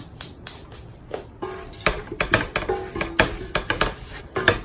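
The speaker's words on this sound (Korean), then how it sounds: "그리고 불을 켜서 볶아주세요" Metal utensil clinking and scraping against a pan while chili powder is stir-fried in a Korean home kitchen, a series of sharp irregular clanks and taps, close and loud, with no talk.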